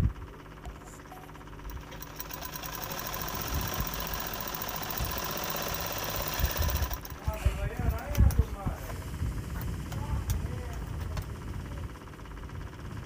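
A sewing machine stitches a blouse layered with saree fabric and lining in rapid, rattling mechanical bursts that grow busier in the second half, with some talking alongside.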